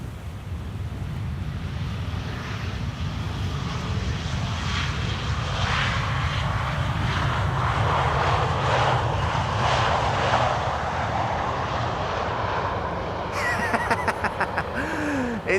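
A KLM Embraer 175 jet arrives on Schiphol's Polderbaan runway 18R, giving a loud, sustained engine roar and rushing wind noise that hold steady throughout, with a brief rattling near the end.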